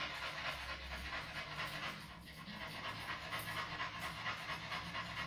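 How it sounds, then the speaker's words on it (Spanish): A mixed-breed dog pants steadily and rapidly during a grooming session, a continuous rhythmic breathy sound close by but fairly quiet, with no talk. "este está jadeando desde que llegó"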